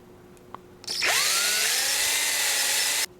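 A power drill bores through a model aircraft's landing gear support, starting abruptly with a rising whine that holds steady and loud for about two seconds before cutting off cleanly.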